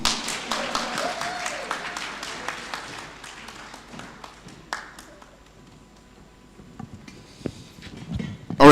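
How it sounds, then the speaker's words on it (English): A conference audience claps, starting as a fairly lively round of individual hand claps that thins out and fades into scattered taps and room noise, with a few louder knocks near the end. "Can you clap for me?"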